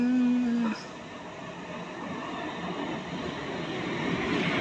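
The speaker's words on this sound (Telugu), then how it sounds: "Goods train, train locomotive goods train." Goods train locomotive passing a railway station between Rajahmundry and Kakinada, opening with a brief tonal horn or whistle, then a continuous rumbling roar of wagons rolling by at close range.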